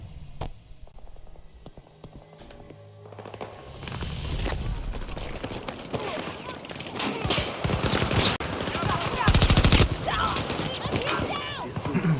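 SMG fire in a multiplayer shooter video game, rapid bursts that build from sparse shots into dense, loud automatic strings over the second half.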